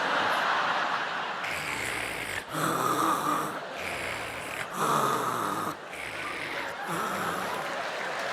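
A comedian on stage imitates loud, rasping snoring in repeated long inhale-exhale cycles, each roughly a couple of seconds, close and harsh.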